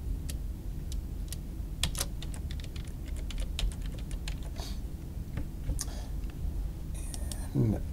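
Fast clicking keystrokes on a computer keyboard while a website address is typed, steady irregular taps throughout over a low background hum, close and moderately loud.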